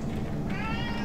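Cat meowing in a single drawn-out call, close and fairly loud over steady background noise, with no talking.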